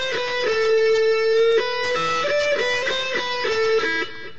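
A slow electric guitar riff with sustained, distorted notes stepping through a short repeating phrase, loud and close with no voice.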